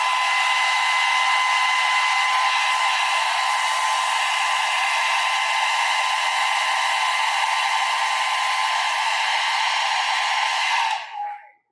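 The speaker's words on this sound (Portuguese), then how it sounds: "Mas eu vou secar aqui com o secador, ó." A handheld hair dryer blows steadily and loudly, used to dry stencil paint on a small painted house craft project, a constant bright whooshing hiss that cuts off abruptly at the end.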